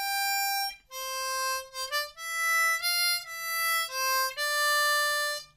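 Harmonica plays the B2 section of the Game of Thrones theme, a run of clear sustained melody notes with short breaks between phrases, close and loud with no talking.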